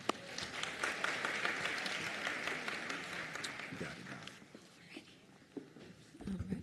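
An audience applauds Dr. Joy Hoffman, BSN program director, at a nursing graduation and pinning ceremony: a sustained wash of many hands clapping in a large room that thins toward the end, with faint murmuring underneath.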